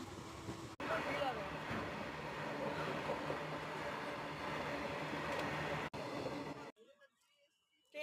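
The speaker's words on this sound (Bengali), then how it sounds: "তো আমাদের ট্রেন ছেড়ে দিয়েছে অনেকক্ষণ আগে।" Steady rumble and rattle inside a moving passenger train on a journey toward Tarapith, running loud and continuous with brief breaks, then dropping quiet near the end; light voices sit under the noise.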